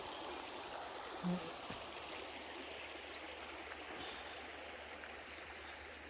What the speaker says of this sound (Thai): น้ำไหลแรงด้วย